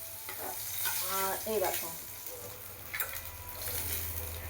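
Bitter gourd fries in a pan with a steady, moderately quiet sizzle and some stirring, while someone speaks briefly over it.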